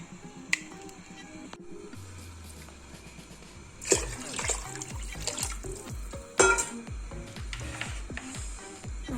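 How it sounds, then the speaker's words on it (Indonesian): Tap water poured into a soup pot for a vegan green radish soup, a steady trickle and splashing with sharp clinks and a couple of louder knocks, close and fairly quiet. "Oke, cukup tambahkan air."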